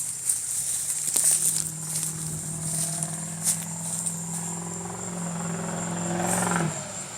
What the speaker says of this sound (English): my neighbor got to drive 60 miles an hour down our little road